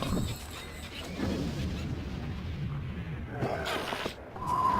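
An ice storm spell in King's Bounty: Warriors of the North rumbles with low, booming crackles and a rushing icy swirl, moderately loud, ending in a brief bright shimmer.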